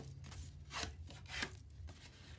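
Paper is scored for a mini binder album, heard as faint soft rubbing with a few brief, close scraping strokes in a quiet room.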